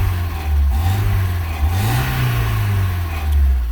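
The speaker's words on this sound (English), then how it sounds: "Now the car is running." A BMW E30 Touring engine running close by, a steady low idle rising into a couple of smooth revs before settling, with no talking.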